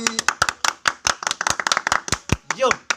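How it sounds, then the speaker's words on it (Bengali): A small group claps hands in sharp, uneven bursts of rapid slaps, close and loud, with a voice briefly heard among the claps near the end. "ভাই হাততালি"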